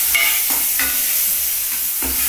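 Spices go into a frying tomato mixture for a banana-flower dalna, producing a loud, constant sizzle with a few soft stirring clacks and scrapes, and no one speaking.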